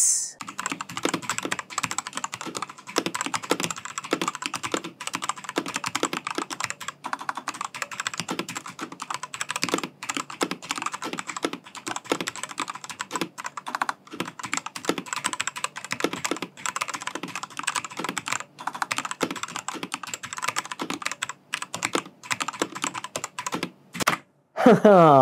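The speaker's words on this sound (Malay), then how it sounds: "Jadi ini typing test untuk Xiaolang K68 red switches." Steady, rapid typing on a Ziyoulang K68 mechanical keyboard with red switches, soft clacky keystrokes in a continuous stream with no voices, ending with a couple of louder key hits.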